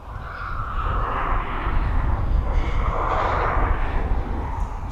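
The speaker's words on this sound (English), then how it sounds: "So that Ryanair, as it was taxiing down Alpha, now it's turned off and it's come to a stop." A Ryanair airliner sits stopped on a taxiway at East Midlands Airport, its engines giving a steady, moderately loud jet rumble and hiss that swells slightly midway.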